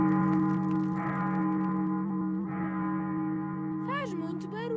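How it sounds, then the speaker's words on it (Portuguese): Big Ben's deep bell tolls in a cartoon and rings out with a long, humming resonance, loud and sustained, with a brief higher sliding tone near the end. "É o som do Big Ben a dizer-nos as horas."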